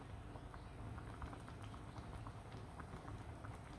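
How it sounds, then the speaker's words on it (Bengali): Radish greens boil in a pot of water, a faint, steady bubbling rumble with soft irregular patter throughout and no distinct breaks. "সুন্দর করে বলক চলে আসছে"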